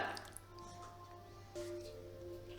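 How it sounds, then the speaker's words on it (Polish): Yeast mixture poured into creamed batter with egg for a poppy seed roll, a soft, quiet wet dripping and squishing over about three seconds, close and faint with no talk. "dolewamy sobie nasze drożdże"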